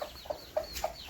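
A chicken on a farm in the Philippines clucks five short, evenly spaced times, quiet and close, with no other sounds around it.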